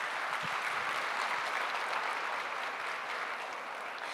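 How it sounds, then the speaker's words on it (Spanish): A church congregation giving sustained applause to the Lord during a service, a dense, even wash of many hands clapping at a steady level for the whole stretch. "Dale un fuerte aplauso al Señor"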